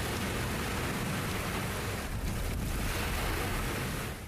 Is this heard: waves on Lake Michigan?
yes